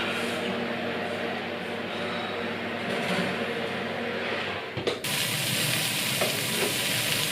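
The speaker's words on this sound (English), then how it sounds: "while we sear the rouladen" German beef rouladen, rolled beef, searing in a hot pan, giving a loud, continuous sizzle and frying hiss that swells louder partway through as more meat hits the pan.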